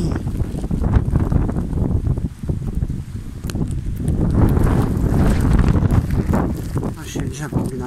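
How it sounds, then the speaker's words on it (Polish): Strong wind roars in loud gusts against the microphone outdoors in a residential area where trees bend, a dense rumbling rush that swells and fades, with people speaking briefly over it. "Ale wieje strasznie."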